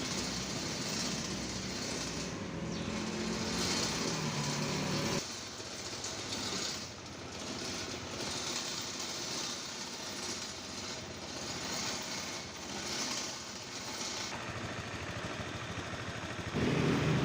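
A Honda Vario 150 scooter engine runs steadily, idling as it warms up with a radiator that boils over, a continuous mechanical drone with light clatter that shifts slightly in level partway through, with no talking.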